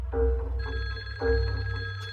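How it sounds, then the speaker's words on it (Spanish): A telephone rings in two bursts of bright electronic trilling with a short gap between them, sounding close and clear over a low background hum. "el teléfono volvió a sonar"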